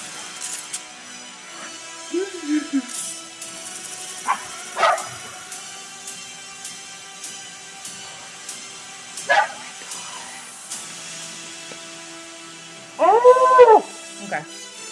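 Excited pet dogs give a few short, scattered yips and whines, then a rising, wavering howl near the end, heard indoors over a quiet background.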